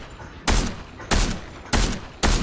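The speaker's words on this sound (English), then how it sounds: "someone else is shooting" Gunfire in the Fortnite battle royale game, four loud sharp shots or short bursts spaced roughly evenly about half a second apart, close and punchy, with no talk over them.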